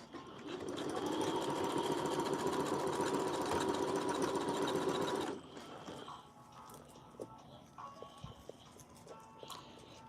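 A sewing machine stitches a dress in a fast, continuous whirring clatter for about five seconds, then stops. Faint handling clicks and rustles of fabric follow indoors.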